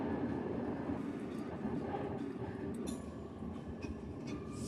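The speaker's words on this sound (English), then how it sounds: "You guys, I actually can't tell you the last time I heard a train." A train rumbling past outside an open window, a continuous low rolling clatter at moderate distance with faint higher rattles, steady throughout and without talk.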